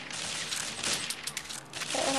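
Gunfire from an M4A1 rifle in an online shooter game: a dense, continuous crackle of rapid shots and game effects, loud and steady throughout, with no speech.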